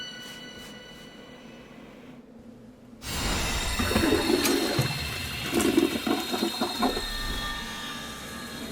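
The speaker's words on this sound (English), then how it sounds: "Sounds just like a toilet flushing." A toilet-flush-like sound effect from the video game Zelda: Echoes of Wisdom: a quiet hiss gives way to a loud rushing, gurgling swirl of water that keeps churning for several seconds, with no talk over it.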